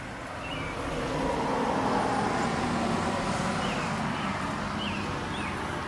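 Cars driving past on a road near an outdoor cooking spot, a continuous steady traffic rumble with no voices and faint birdsong on top.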